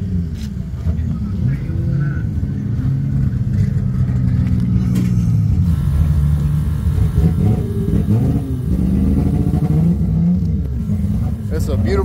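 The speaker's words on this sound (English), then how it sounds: "It sounds more like a big main engine in here." A beautiful E9 car's engine rumbles deep and heavy, like a big main engine, holding a steady idle with revs rising and falling, while people talk close by over it.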